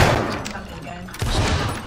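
A musket volley fires in a Roblox Waterloo battle game, a ragged burst of gunfire over a busy background that swells again near the end.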